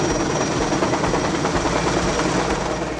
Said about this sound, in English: The auger and other pieces of drilling equipment were moved using a small helicopter